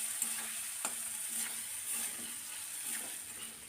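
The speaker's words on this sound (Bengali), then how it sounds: "এবার আদা আর কাঁচা লঙ্কাটা দিয়ে একটু সময় কষাতে হবে।" Ginger and green chili paste with tomatoes sautés quietly in a pan for a bitter gourd dish. A soft, faint sizzle runs under a few light stirring clicks, with no talking.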